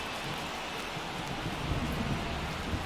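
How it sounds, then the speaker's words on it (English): Steady rain hisses over a baseball field in MLB The Show 23 during a Phillies at Braves game, a dense, even wash of droplets with no pauses and no voices. "the field's not going to be able to hold up if the rain gets any worse than this"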